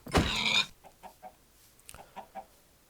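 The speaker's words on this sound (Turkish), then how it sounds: "Tavuklar falan var." Chickens in Minecraft cluck in short bursts after a loud squawk at the start, a few soft clucks spaced apart, fairly close with no talking.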